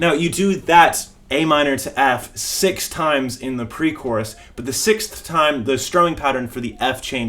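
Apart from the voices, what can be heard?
No everyday noise stands out behind the speech.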